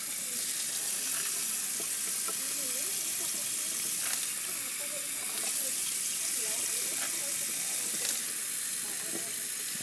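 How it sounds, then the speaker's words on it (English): Oxidized sterling silver findings and jewelry components are rinsed under running water from a tap, a steady, close splashing hiss that continues unbroken, with a faint voice underneath. "And just kind of rinse it with water."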